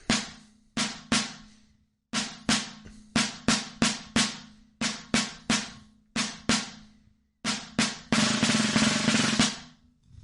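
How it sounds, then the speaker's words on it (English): Snare drum rhythm exercise played up close: bursts of sharp, crisp strokes in groups separated by brief pauses, ending in a loud sustained buzz roll that fades out. "We'll just play those rhythms that we've already seen before, and then buzz, buzz, buzz, buzz, 1 at the end."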